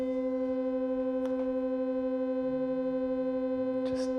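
A sustained dissonant interval played in an orchestra rehearsal, with steady held tones at a soft, even level throughout, and faint rustles and brief noises.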